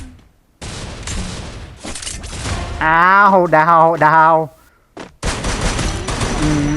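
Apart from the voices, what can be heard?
gunfire in a video game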